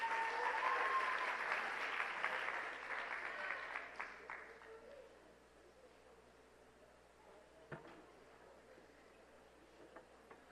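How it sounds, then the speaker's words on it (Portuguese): An audience at a live church youth service claps steadily, then the applause thins and fades after a few seconds, leaving a quiet room with a faint click. "Pode aplaudir, viu, gente?"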